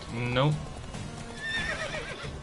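A horse in the video game The Witcher 3 whinnies loudly with a falling neigh, followed by another shrill whinny amid hoof clatter and a voice speaking.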